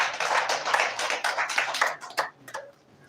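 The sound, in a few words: audience applause for a lecturer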